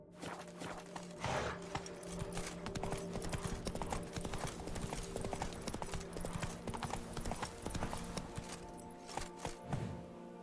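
Roach, Geralt's horse in The Witcher 3, trots with steady clip-clopping hooves close by throughout, the rhythmic beats sitting over continuous game ambience and music with no talk.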